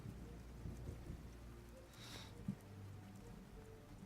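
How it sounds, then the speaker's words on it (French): A thunderstorm sound effect plays, with steady rain hissing throughout and a low, soft rumble of thunder swelling briefly in the middle, distant and fairly quiet. "un orage commence à se lever."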